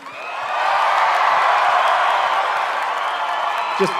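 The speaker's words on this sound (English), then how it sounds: "Let's give our contestants one more round of applause." Large pageant audience applauding and cheering contestants at Miss Universe 2015 in the USA, a steady sustained wash of clapping and crowd noise at moderate loudness, swelling in and holding throughout.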